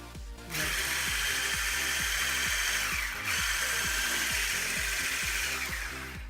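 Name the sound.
electric mixer beating apple pie batter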